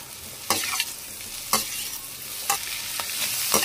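Cabbage Manchurian frying over a high flame, a steady sizzle running throughout with four sharp scraping stir strokes spaced about a second apart, close and moderately loud, no voices.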